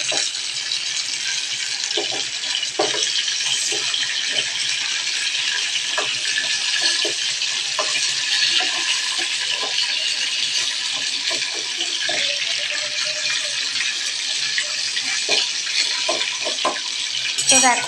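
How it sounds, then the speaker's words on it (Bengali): Fish fry in hot oil in a home kitchen pan, a steady broad sizzle running the whole time, with scattered clicks and clinks from turning the pieces over and light kitchen clatter. "মাছটা আমার উল্টো পাল্টা দিয়েছি আর মাছটা ফ্রাই হচ্ছে"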